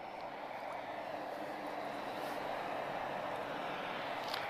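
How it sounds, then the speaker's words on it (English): An EasyJet Europe Airbus A320-214 at Lisbon Airport gives off a steady, distant jet roar that hangs evenly over a broad hiss throughout. "This is an A320-214. And this is EasyJet Europe again."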